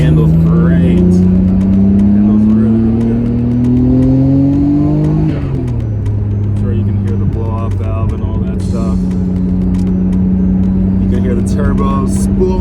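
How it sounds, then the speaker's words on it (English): A manual five-speed car accelerates with its turbo spooling up, the engine note rising steadily and loudly before a gear change drops the pitch, with someone talking over it. "Turbo spooling up as I accelerate."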